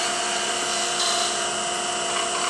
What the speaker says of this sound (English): When cutting the bead, you'll notice that I'm rotating the tool like this.